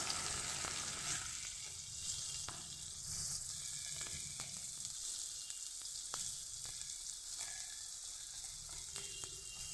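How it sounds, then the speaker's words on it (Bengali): Chopped onion sizzles in hot oil in a pan, a steady bright crackling hiss with occasional stirring clicks throughout. "এর মধ্যে আমি দিয়ে দেব পেঁয়াজ কুচি"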